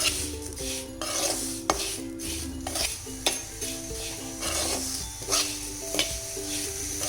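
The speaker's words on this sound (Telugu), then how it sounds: "పచ్చి వాసన లేకుండా బాగా మంచి వాసనతో నెయ్యిలో ఇట్లా వేయించుకోవాలి" Vermicelli frying in ghee in a pan for a jaggery payasam, with repeated metallic stirring scrapes and clinks over a low sizzle, close and fairly steady, no talking.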